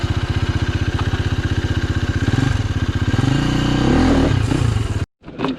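A Yamaha WR250R dirt bike on a rough Ourimbah State Forest trail thumps at a close, steady idle, then revs harder and rises into a strained, clattering roar before cutting off abruptly near the end.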